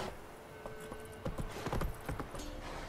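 Horse hooves clip-clop rhythmically on hard ground in The Witcher 3 video game, a steady galloping beat that is close and moderately loud.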